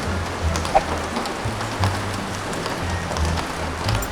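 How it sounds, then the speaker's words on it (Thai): Heavy rain pours down outdoors as a steady, even hiss with scattered drop impacts, heard alone without voices. "ตอนนี้ฝนมันตกหนักมากแล้ว"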